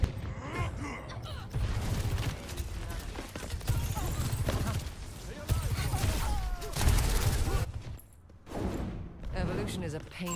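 Dense video game gunfire crackles in repeated bursts with loud sharp reports and mechanical clatter, mixed with game voices and effects throughout.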